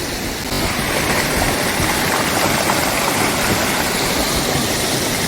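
Water from a waterfall and stream rushes in a constant dense roar, loud and close throughout, rising in level just after the start and then holding steady with no speech.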